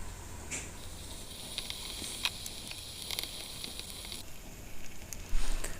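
Onions frying in oil in a pan on the stove, a continuous soft sizzle with scattered crackles and pops, close and fairly quiet, with no talk.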